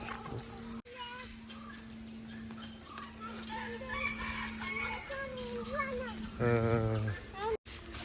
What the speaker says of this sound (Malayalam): കോഴി ഉണ്ട് അവിടെ